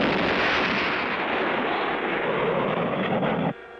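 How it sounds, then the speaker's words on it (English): Cartoon rocket's second stage igniting: a loud, sustained roaring blast fills nearly the whole stretch, then drops abruptly to a quieter rumble at the end, with no voices. "The mighty blast of the second stage drives the rocket higher and faster."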